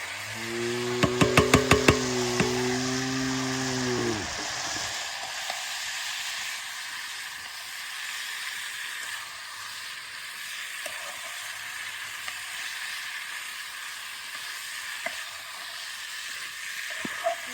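Eggplant frying in a cooked-down spice paste in a pan: a continuous hiss of sizzling oil runs throughout, with a few short knocks and stirring clatters; a brief tonal whistle-like sound sits near the start.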